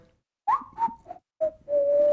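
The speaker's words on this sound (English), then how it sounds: "I love the whistling." A person whistles a short tune up close: a few quick rising notes, a brief pause, then a sustained steady tone, loud and clear with no talking.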